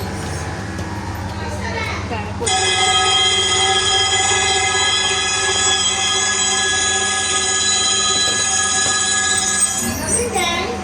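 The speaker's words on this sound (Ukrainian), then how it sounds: "заходьте на трамвай" A tram rolls along rails with a loud, sustained metallic squeal of wheels over a rumbling low hum, fading toward the end.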